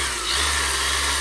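A Mirka Deros electric sander runs at its minimum setting of about 4000, giving a steady close motor whine with a constant low hum, brief and unbroken, with no talk.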